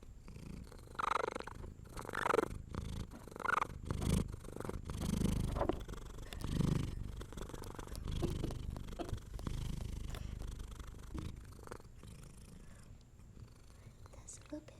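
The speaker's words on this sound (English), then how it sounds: "We've also got our helper here, and she's been purring." A house cat purrs steadily right up close, a continuous low rumble running under soft, hushed talking.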